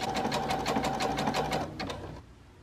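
A sewing machine runs a regular zigzag stitch along the edge of fabric under a regular sewing foot, a close, steady rapid chatter of the needle that slows and stops near the end.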